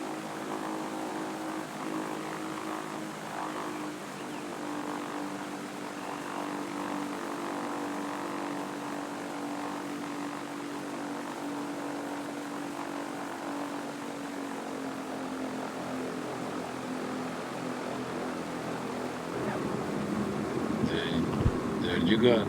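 A Cessna 172 propeller engine drones steadily in a flight simulator game as the plane comes in to land, a continuous low hum that swells slightly louder near the end.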